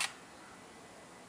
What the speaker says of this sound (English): The Nikon L35AF also, I'll take one more picture